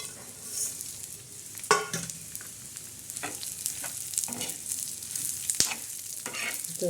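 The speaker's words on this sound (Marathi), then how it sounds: "ते खोबरं छान असं लालसर भाजायचं त्याच्यानंतर हे खोबरं मिळते हा थोडासा लसण बी टाकायचा" Grated coconut and a little garlic roasting in a pan until reddish, with a continuous dry sizzle broken by repeated spatula scrapes and clinks, close and clear, no voices.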